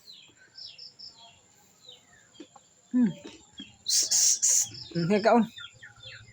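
A young pet bird being raised by hand gives a few sharp, bright chirps in quick succession, close and fairly loud, with a person talking softly around them.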